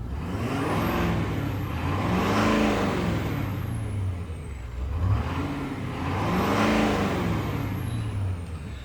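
A 2013 Ford F-250 Super Duty Powerstroke diesel pickup engine revs up twice, rising and falling in pitch, with a steady loud idle rumble and a faint turbo whistle between.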